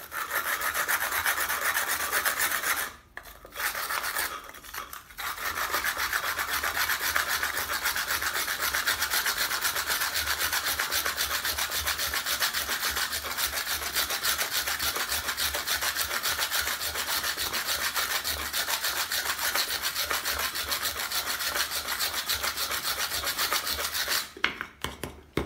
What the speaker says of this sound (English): I'm gonna start a cut there. Doesn't take long, even no abrasive, just with a toothed copper saw.